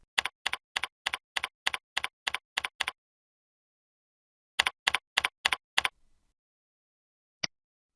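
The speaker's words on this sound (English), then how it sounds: "Log in using your email address and password and click Login." A computer keyboard clicks close by as an email address and password are typed: a run of about a dozen evenly spaced keystrokes, a pause, five more, then one final tap.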